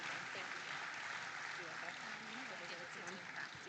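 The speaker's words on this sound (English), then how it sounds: "round of applause for that" Applause from a seated crowd at a charity celebrity steer show at a state fair, steady dense clapping that fills the space evenly from start to finish with no voices over it.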